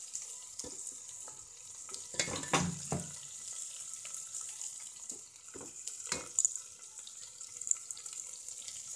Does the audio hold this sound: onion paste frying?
yes